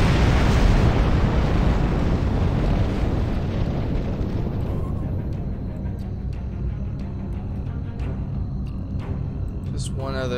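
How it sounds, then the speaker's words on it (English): A charge detonates in the video game Star Trek Online: a loud, roaring explosion that starts at full force and slowly decays into a rumbling tail over about ten seconds, with a few faint game blips toward the end. "Charge is detonated."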